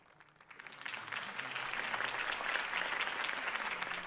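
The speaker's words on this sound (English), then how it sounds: "If only Mr. Wayne, my campaign's largest backer, could have heard that applause" Crowd applause in the Batman Telltale game follows a campaign speech, a broad steady wash of clapping that swells in after a quiet start and holds full and close to the end.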